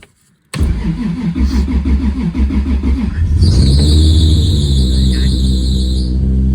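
A Toyota Supra engine cranks briefly, catches and roars to life, then settles into a loud, steady idle with a high whine running above it.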